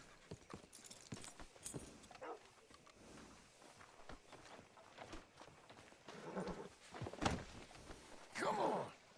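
Horse hooves clip-clop in Red Dead Redemption 2, soft, uneven steps of a horse being led up to a hitching post, along with breathy snorts and shuffling and a louder thump near the end.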